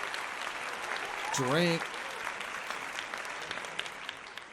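Applause for a boxing media journalist rises from a live audience, a steady broadband patter of clapping throughout with a brief spoken word over it partway in.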